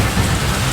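Heavy rain sweeping in over open ground, a dense steady hiss of drops striking surfaces, loud and close with no break.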